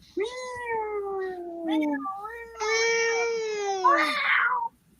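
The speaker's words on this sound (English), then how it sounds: "That's a cat. That's not an alarm. That's a cat." A cat meows loudly in long, drawn-out, wailing cries, three or four in a row, close and clear against a quiet background.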